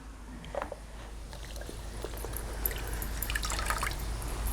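A horse bridle piece is rubbed clean of grease and dirt with water, giving soft wet splashes and drips under a low steady hum, growing slightly busier toward the end.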